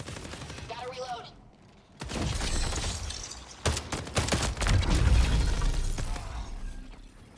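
Rapid bursts of gunfire and shattering impacts in the video game Marathon, loud and dense after a brief quiet stretch, with rattling fire and clattering mechanisms.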